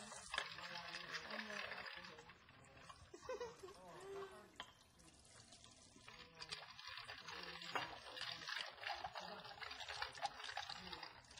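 Water pours and splashes into a container of alcohol, a bright uneven trickle with gurgles and clinks, fairly close, while people chat over it.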